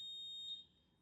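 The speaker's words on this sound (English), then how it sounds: "No, a fire alarm." A fire alarm or smoke detector sounds a steady high-pitched electronic tone for the whole second, loud and continuous, with no voices over it.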